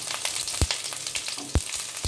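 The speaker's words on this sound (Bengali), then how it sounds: "পেঁয়াজটা পুরো ভাজা করতে হবে না, শুধু একটু তেলে নেড়েচেড়ে নিয়ে" Chopped onions fry in oil for a mutton curry, giving a steady close sizzle broken by a few sharp knocks of stirring, with no talking.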